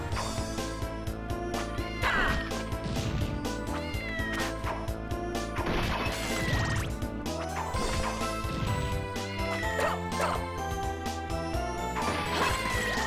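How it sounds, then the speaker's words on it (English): Repeated cat meows and yowls from horse-head enemies in Castlevania: Order of Ecclesia sound over dense, busy game noise with crashes and thuds, continuing throughout without talk. "These horse heads are making cat noises."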